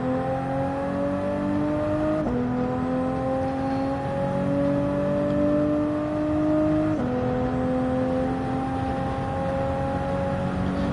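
A 2018 Toyota Supra Concept engine in a racing video game on the St. Croix track, a steady loud whine that rises through gears with two clear shift drops, running alone without talk.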